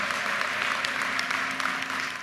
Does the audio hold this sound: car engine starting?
no